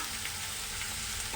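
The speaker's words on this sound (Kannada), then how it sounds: "ಇವಾಗ ನೋಡಿ, ಮಿಕ್ಸ್ ಮಾಡ್ತಿದ್ದಾರೆ." Bitter gourd palya being stirred in a pan with onion and oil, a continuous close sizzle of frying with faint scraping from the mixing, steady and unbroken.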